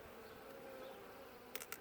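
A steady, soft drone of many honey bees buzzing in a hive hums continuously, with a couple of brief faint clicks near the end.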